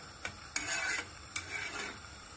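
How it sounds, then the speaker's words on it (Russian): A spoon drags and rasps around a pot as a heaped spoonful of sour cream is mixed into a simmering sauce for Slavic-style pot-baked meat: a few short, close scraping strokes, quiet and unaccompanied by voices. "Все хорошенечко перемешиваем."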